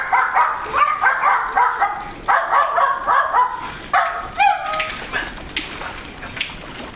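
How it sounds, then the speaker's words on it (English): A dog barks repeatedly in close, loud bursts, with a few higher yips and whimpers mixed in, then quiets toward the end, heard alone with no talk. "I apologize for the dog."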